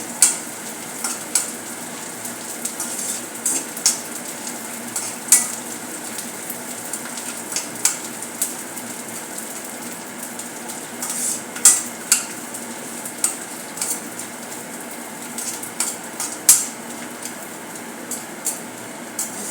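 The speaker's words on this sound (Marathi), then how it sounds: "तर आपण डिंक थोडे थोडे घालून तळून घेऊया." Edible gum fries in oil over a low flame for sweet laddoos, a soft continuous sizzle broken by frequent sharp crackles and pops and the occasional scrape of a stirring utensil.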